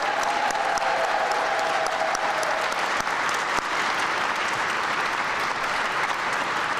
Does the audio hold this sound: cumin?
no